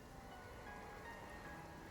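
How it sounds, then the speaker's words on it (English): Rain falls in a video game, heard as a soft, steady hiss of patter with no breaks and no one talking. "I like the rain."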